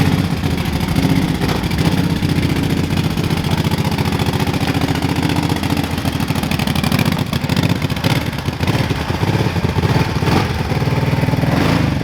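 Kawasaki KFX 700 quad engine running in snow, a loud, near, steady mid-pitched rumble with a fast pulsing beat that holds constant throughout, with no voices over it.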